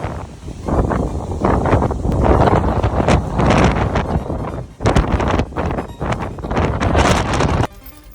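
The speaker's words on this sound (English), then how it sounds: "Bloody windy out there." Strong wind of up to 100 km/h buffets the microphone on a rooftop in loud, roaring gusts that surge and ease almost continuously, then drop off abruptly near the end.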